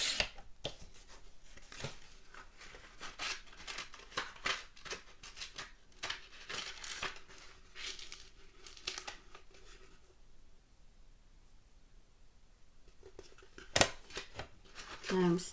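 Scissors snip and trim a paper piece for a sunflower shadow box craft, a run of short crisp cuts and rustles close by, mixed with a person talking, then a quieter pause before a few last sharp snips.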